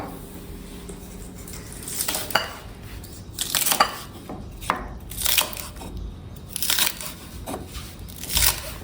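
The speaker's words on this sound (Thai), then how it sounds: "ก็จะเป็นการซอยผักบุ้งให้เป็นชิ้นเล็กๆนะครับ" Rapid knife chopping of water spinach on a cutting board, an irregular run of crisp, close thuds with brief pauses and no talking.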